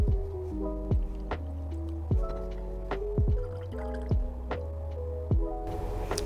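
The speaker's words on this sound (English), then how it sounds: "So we can just drain away our brine." Brine drains from a separatory funnel during the ether workup of a Grignard reaction making triphenylmethanol, a rhythmic series of close drips and gurgling glugs with no talking.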